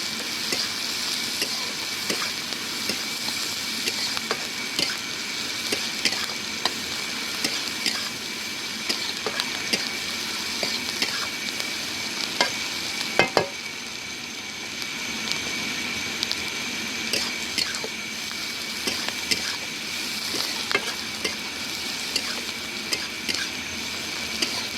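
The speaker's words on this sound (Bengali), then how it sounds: "পেঁয়াজগুলো একটু লাল লাল করে ভেজে নেব।" Onions fry in oil for a pond-crab curry, a steady close sizzle running the whole time with occasional sharp crackles and pops and no voices.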